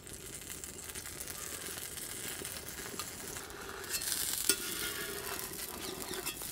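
Uthappam topped with onion and green chili fries in ghee on a griddle, giving a quiet, steady sizzle that swells briefly and brightens around the middle before settling back to a soft crackle.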